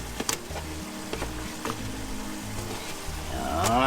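A pot of Filipino dinuguan, pork blood stew with bottle gourd, bubbling at a steady boil, with soft popping and faint ticks of stirring. The simmer is quiet and close, and the bubbling grows a little louder near the end.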